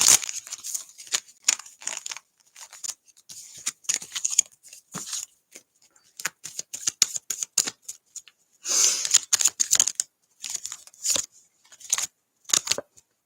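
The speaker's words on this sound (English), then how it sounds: "let's just shuffle these up for you" Tarot cards are shuffled by hand in quick irregular bursts of crisp riffling and slapping, close and alone with short pauses between.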